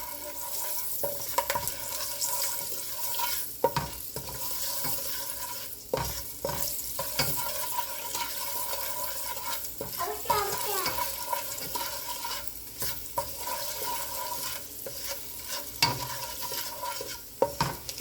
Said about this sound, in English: Just going to stir it in with the garlic.